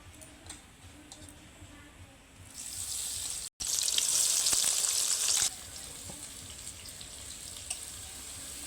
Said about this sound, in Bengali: এইবার প্রথমেই তেলের মধ্যে দিয়ে দেব পেঁয়াজ কুচি।